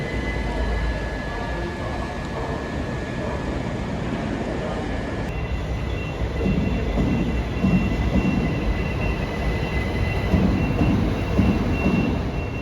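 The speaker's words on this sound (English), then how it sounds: "Nowadays, there's a mix of train types using the platforms here" Trains at a platform in London Victoria Station, a continuous low rumble of rolling stock with faint wheel squeal and metallic tones, steady and fairly close, without voices.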